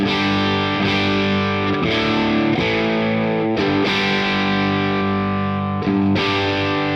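Heavily distorted electric guitar through a Friedman Twin Sister tube amp with the bright switch engaged rings out in sustained, crunchy chords, each strummed and held for about a second, loud and thick with harmonic overtones.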